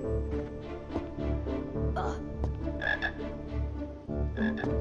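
Frogs croaking in the Harry Potter PC video game, a dense chorus of repeated throaty croaks overlapping at a steady pace, fairly close and prominent with no talk over them.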